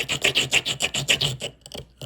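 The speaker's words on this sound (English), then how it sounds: "So this is a black unglazed tile. You're going to take that and you're going to rub it real hard right there." An unknown crystal scraped hard back and forth across a black unglazed tile during a streak test, producing about eight rapid, loud, raspy strokes up close before slowing and fading, with no talking.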